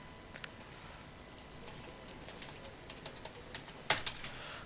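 Computer keyboard keys clatter in short, quiet bursts of typing, close and soft, with one sharper cluster of keystrokes near the end and no talk.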